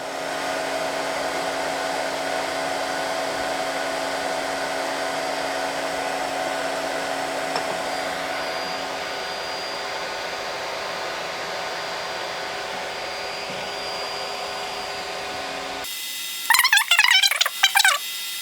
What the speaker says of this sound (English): I'm selecting second extruder right now, and I'm extruding 100 millimeter more.